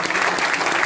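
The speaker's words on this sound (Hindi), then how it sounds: "एक बार जोरदार तालियां उनके लिए" An audience at a live event breaks into loud, dense applause that fills the whole brief moment with steady clapping from many hands.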